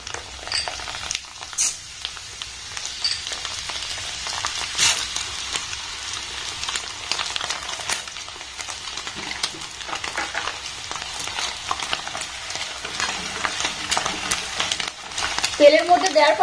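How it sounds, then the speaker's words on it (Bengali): Sabudana (sago pearls) frying in hot oil give off a faint, steady crackling sizzle with scattered small pops and a few utensil clicks, close but quiet, swelling slightly louder toward the end. "তো সাবুদানাগুলোকে আমি খুব সুন্দর করে ভেজে নেব।"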